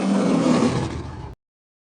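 A tiger lets out a single loud, sustained roar, deep and harsh, lasting just over a second before cutting off abruptly into silence.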